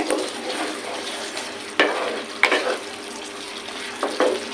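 A curry with sugar is stirred in a frying pan for a prawn and banana-flower kofta dish. A soft bubbling sizzle runs under it, broken by several scraping spoon strokes near the end.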